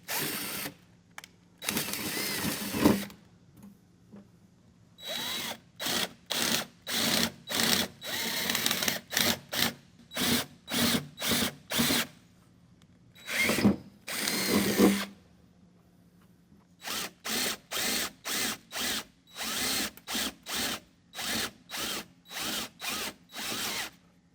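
A handheld power drill whirs in short, repeated bursts as a bit is pulsed through the body of a Jeep LJ during a rocker guard install, with quiet pauses between clusters of rapid on-off pulses, close and steady.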